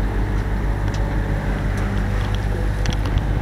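A sailboat motoring along the Basque coast with its engine held at 1800 rpm gives a steady low droning hum under constant wind and water noise, with no talk.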